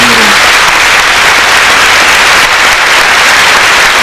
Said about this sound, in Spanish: un aplauso, ándale pues al Padre